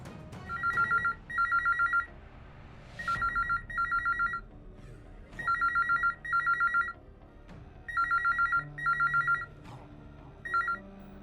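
Ringback tones from an outgoing phone call come in repeated double beeps, about five pairs in steady succession, clear over a quiet background with small handling knocks.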